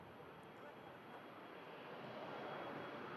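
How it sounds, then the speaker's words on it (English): Air France jet on its departure roll at Manchester Airport, a steady broad engine roar heard from a distance, gradually swelling, with faint wind noise. "France on the departure roll now, heading back down to the French capital, Paris Charles de Gaulle."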